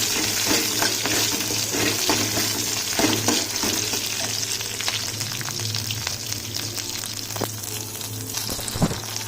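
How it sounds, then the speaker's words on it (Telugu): Green chillies frying in hot oil with mustard seeds for vankaya pachadi: a loud, continuous sizzle and crackle with scattered sharp pops and occasional stirring scrapes, no voices. "వేగిన తర్వాత పచ్చిమిరపకాయలు కూడా వేసుకొని బాగా వేపుకోవాలి."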